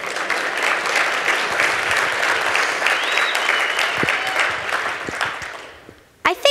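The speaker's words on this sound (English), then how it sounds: "Pause for clapping." An audience applauds a child's speech at a lemonade stand fundraiser event, sustained dense clapping that fades out near the end before a couple of brief closer sounds.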